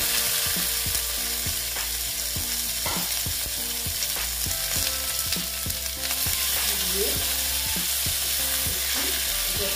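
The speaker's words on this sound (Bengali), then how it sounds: "আলুটা প্রায় অনেকটাই ভাজা হয়ে গেছে। এখন আমি টমেটো কুচিগুলো দিয়ে দিচ্ছি।" Potatoes and chopped tomatoes fry in a pan for a moong dal and ridge gourd dish, a steady close sizzle punctuated by regular clicks and scrapes of stirring, with no voices.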